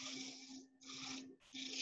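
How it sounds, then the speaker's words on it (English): Hand sandpaper rubbing over a textured, scorched and coloured turned wooden bowl, three steady back-and-forth strokes with short pauses between, close and soft. "I'll just go over to a bit of hand sanding just to get into the places where I couldn't get into"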